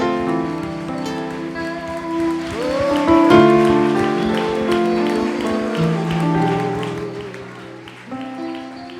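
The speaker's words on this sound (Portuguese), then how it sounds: "Você pode aplaudir como você nunca aplaudiu antes." Applause from a Sunday church congregation blends into loud worship music with sustained organ-like chords and singing, the clapping a continuous patter under the music throughout.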